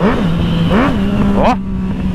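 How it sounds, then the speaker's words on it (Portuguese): A Yamaha MT-09 motorcycle engine revs in quick bursts, pitch climbing and falling twice before settling into a steady idle. "Essa moto aqui é cavalo louco, mano."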